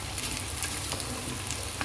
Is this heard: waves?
no